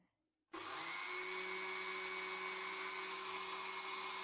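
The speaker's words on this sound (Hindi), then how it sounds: "अब हम इसे 2 से 3 मिनट के लिए ब्लेंड करेंगे" After a brief silence, an electric blender switches on and grinds roasted cumin seeds steadily with a loud, even motor whir.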